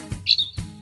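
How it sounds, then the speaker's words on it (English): A parrot gives one short, high whistling chirp that bends downward, set between soft low thumps of a children's animal song. "A parrot."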